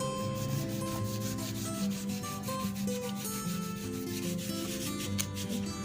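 A child's hand rubbing dried mud off a phonics letter during a kids' letter-sounds activity, a continuous close scraping and scrubbing with a gritty texture, steady and moderately loud with no talking.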